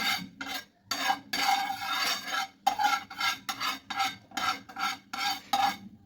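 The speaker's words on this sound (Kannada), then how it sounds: "ಬಟರ್ನ ಹಾಕ್ಕೊಂಡು ಹಿಂಗೆ ಪೂರ್ತಿ ಎಲ್ಲ ಕಡೆಯೂ ಸ್ಪ್ರೆಡ್ ಮಾಡಿ" Butter being spread across a hot tawa pan for bread pizza, heard as close, repeated rasping scrapes in short strokes with brief pauses between them.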